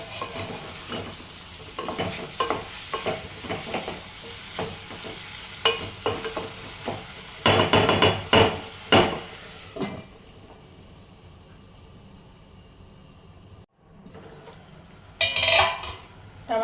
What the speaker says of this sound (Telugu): ఒకసారి కలిపేసి మనము ఉడికించుకోవాలి